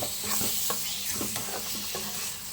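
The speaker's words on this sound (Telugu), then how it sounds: "ఇది కొంచెం ఎగ్ని కలుపుకుందాం." Egg being stirred in a hot pan with torn chapati pieces for a breakfast dish, a soft, steady sizzle under repeated scraping strokes of a spatula, close and fairly quiet.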